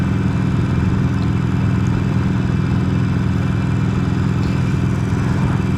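A Harley-Davidson Sportster motorcycle engine drones loudly and steadily while riding, a deep, continuous rumble with constant low pulsing and no pauses, heard up close.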